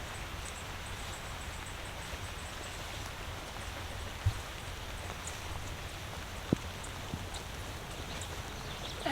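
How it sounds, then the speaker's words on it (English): Rain falls steadily on a camera outdoors, a soft continuous patter with a couple of sharper taps as drops strike the screen. "because rain keeps hitting my screen"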